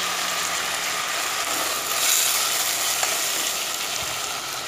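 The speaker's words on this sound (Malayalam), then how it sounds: "പച്ചമുളകും ചേർത്ത് വെക്കാം കറിവേപ്പില" Green chillies and curry leaves sizzle steadily in a pan of hot oil, a continuous bright crackle that swells briefly partway through, with no voices.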